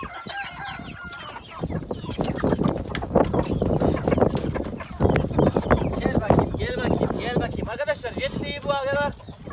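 Roosters, hens and chicks of the Indian rooster breed feeding on eggs give repeated clucks, crows and chirps, loud and close, while people talk over the flock throughout.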